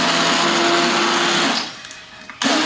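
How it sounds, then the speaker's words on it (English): A kitchen blender whirs loudly and steadily while blending carrot and coriander soup, cutting out briefly near the end before roaring back on. "Blend, like Barry's blender."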